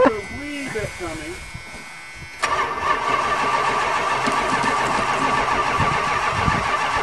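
A 1975 Chrysler New Yorker engine cranks briefly with voices talking nearby, then catches and fires into a loud, steady running roar that continues to the end.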